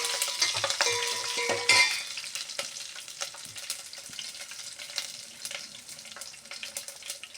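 Garlic fries in oil in a pan for sambar, giving a soft steady sizzle with stirring scrapes and a few clinks of a utensil against the pan, close and moderately quiet.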